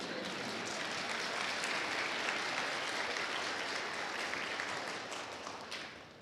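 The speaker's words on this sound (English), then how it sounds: "Yes, it's okay to clap." A crowd applauds loudly and steadily for several seconds at a nursing school pinning ceremony, then the clapping thins out and fades.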